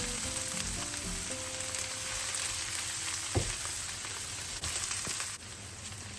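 Peppers and onion sizzle and crackle steadily in a hot pan, close up, with a single clatter of a utensil midway and faint background music.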